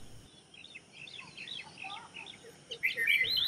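Small birds chirping at a window at dawn, with light scattered tweets at moderate distance that grow busier and louder toward the end over a quiet background.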